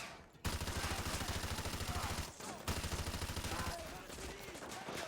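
M240 machine gun in Call of Duty: Modern Warfare 2, firing long, rapid, loud sustained bursts with one short pause partway through.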